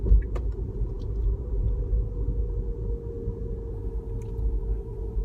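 Tesla Model S cruising onto a freeway, a steady low road rumble and tire noise filling the cabin throughout with no engine note, continuous and even from start to finish.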